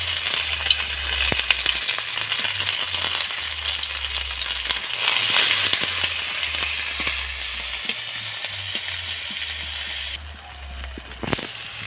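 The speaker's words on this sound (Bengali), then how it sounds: "এবার আমি এর জন্য মশলাটাকে কষবো তরকারিটার জন্য। এই যে প্রথমে আমি পেঁয়াজ কুচিগুলো দিয়ে দিই।" Chopped onions hit hot oil for a soy chunk curry masala and sizzle loudly and steadily, with a few clinks of a utensil against the pan; near the end the frying drops away to quieter stirring.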